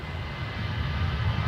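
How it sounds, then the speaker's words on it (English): Airbus A350 jet engines give a deep, steady low rumble at Dublin Airport on a windy day, loud and continuous with a slight swell toward the end. "It's the noise of the 350 I love. Just that rumble of the engine."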